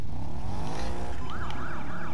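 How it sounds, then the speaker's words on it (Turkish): A police car siren in the racing game Need for Speed Payback wails in a rising and falling pattern over a loud engine roar, the siren starting partway through and sounding close. "tuşa bastığımız anda joystick'e sireni açıp kapatabiliyormuşuz"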